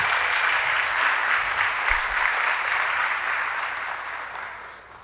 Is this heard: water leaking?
no